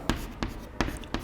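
Four short, crisp taps and strokes of writing on a board during a geometry lesson, evenly spaced and fairly close, with no voice over them.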